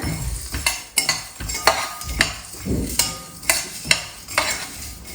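Seeds for homemade protein bars dry-roasting in a pan, stirred with a spoon in rhythmic scraping strokes about once a second, with light rattling, clinks and a faint sizzle between strokes.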